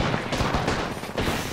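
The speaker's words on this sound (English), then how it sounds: "I can't hear you with all the gunshots" Dense, rapid gunfire crackles in bursts in the game Apex Legends, loud and overlapping like several weapons firing at once.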